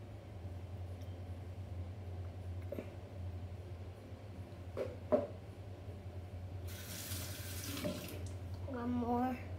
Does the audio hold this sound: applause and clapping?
no